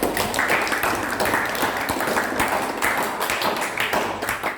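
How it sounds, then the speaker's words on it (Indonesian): Classroom audience applauding a presenting group: dense, close clapping from many hands, a steady rapid patter that holds for several seconds and tapers off at the end. "beri tepuk tangan dulu untuk kelompok 3"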